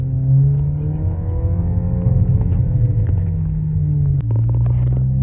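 A car engine hums steadily from inside the cabin of a 420 hp 2019 Volkswagen Arteon, with a whooshing, whistling turbo tone rising and falling as it drives; the pitch briefly drops near the end.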